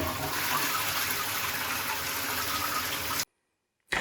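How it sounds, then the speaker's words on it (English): A toilet flushes with a loud, continuous rush of water close by, then cuts off abruptly into near silence before a brief return of sound at the end. "Let me just flush it down the toilet."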